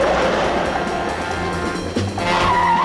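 Car from a 1966 TV movie braking hard, tires skidding and squealing loudly with engine roar, a close, continuous screech that rises toward the end.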